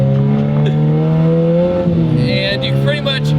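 A turbocharged B20 engine in a Honda EG hatchback with an open downpipe drones loudly and steadily up close, its pitch shifting slightly as it revs, while a person talks over it.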